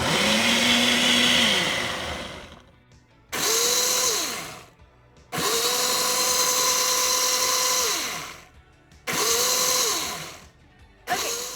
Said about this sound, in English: I'm gonna power it on and hit smoothie.